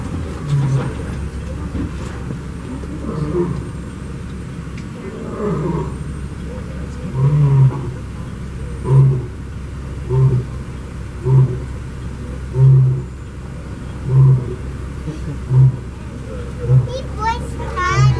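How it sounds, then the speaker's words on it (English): A lion roars at Disney's Animal Kingdom in a series of deep, rhythmic grunting bursts that grow louder and closer together, while children and adults chatter in the background. "that's what a real lion sounds like when they roar, not like in the movies"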